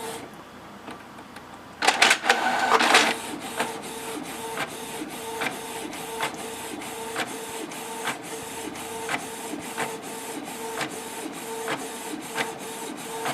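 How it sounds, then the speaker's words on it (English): A home printer prints a Windows 95 Christmas card: a loud burst of feed and carriage noise, then a steady run of evenly spaced clicks and soft mechanical whirring as the print head passes repeatedly, close and alone. "we'll print it on this printer right here"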